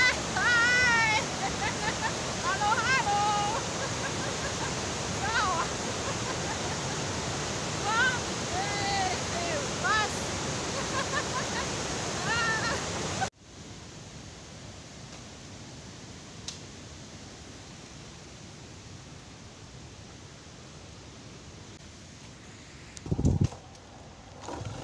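The Nabuyole waterfall at Webuye roars as a steady broadband rush, with a voice speaking over it during the first half. The sound then drops to a quieter, more distant water wash.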